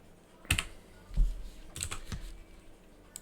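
Keys clack on a computer keyboard in short irregular bursts: several sharp taps, then a pause, then more close, fairly quiet clicks, with no voices.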